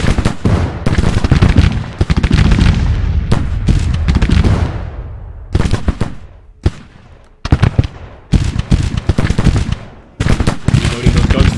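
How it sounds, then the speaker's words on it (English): Infantry rifle volleys crackle in a Civil War video game depicting the Battle of Bentonville, loud and close, firing in repeated ragged bursts with brief gaps and a rumbling tail. "Kennedy's men with a fresh volley there"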